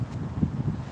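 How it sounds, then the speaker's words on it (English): Wind blowing across an outdoor beach area, a steady low rumbling buffet of gusts against the microphone that stays fairly even and loud throughout. "I don't know if you guys can hear me with the wind, but let me know if it gets too windy"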